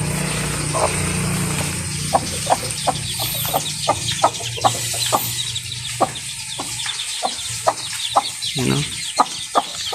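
A small brood of newly hatched chicks, six out of a clutch of seven eggs, peeping in a rapid, uneven string of sharp calls close by, with one brief spoken word.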